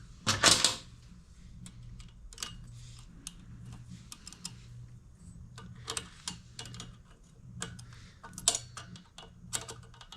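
Scattered sharp metallic clicks and ticks come from work on a bicycle clutch cable pinch bolt, with irregular taps and ratchet-like bursts over a quiet, faint background hum.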